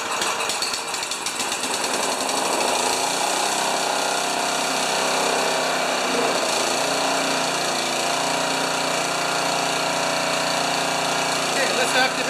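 A Honda HRA214 lawn mower engine catches and settles into a loud, steady running drone that continues alone, with a brief rough start at the beginning.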